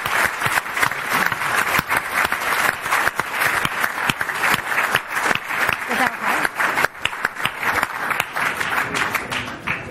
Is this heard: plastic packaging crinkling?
no